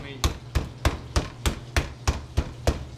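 Meat being pounded with a whiskey bottle on a hard surface, eight loud, evenly spaced thuds about a third of a second apart, with a faint low hum beneath.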